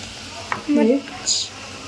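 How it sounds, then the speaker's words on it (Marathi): Fish being stirred into green masala paste in a pan, giving a short wet squelching scrape followed by a brief hiss, close up, with a voice heard briefly. "मच्छी त्याला आपण मिक्स करणार"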